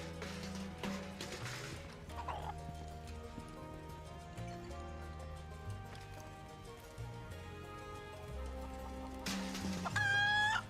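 A chicken clucks repeatedly in the video game Final Fantasy 7 Rebirth, bursts of fowl calls early and again near the end, heard over a continuous game soundtrack.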